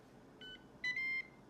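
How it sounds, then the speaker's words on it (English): A short quiet beep followed by a louder, longer electronic beep from a Ninja Foodi pressure cooker signaling it is done, clear against a faint background hiss. "That's the alarm. Tell you that you're done."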